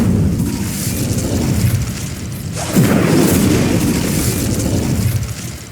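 In the video game Hogwarts Legacy, a fire spell blast erupts as a loud, sustained roaring whoosh that swells midway and holds steady, with no speech.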